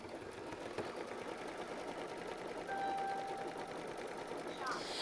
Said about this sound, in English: And then go ahead and sew machine stitch step 14.